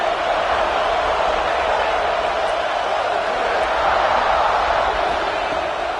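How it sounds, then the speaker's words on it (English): A steady, dense roar of a large stadium crowd in the College Football 26 video game, loud and continuous throughout, without clear individual voices. "This crowd bringing the energy and noise early."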